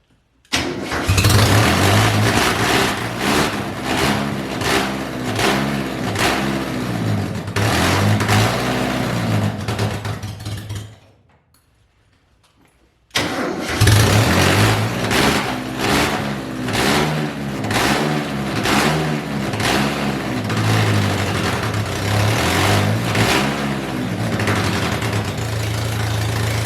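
An MG Midget car engine cranks and catches, then runs unevenly with revs rising and falling. It cuts out for about two seconds, restarts and keeps running loud and close, with no one speaking.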